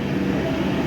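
A train rolls into Santahar railway junction toward platform 3, making a steady, loud, low rumble that stays constant throughout.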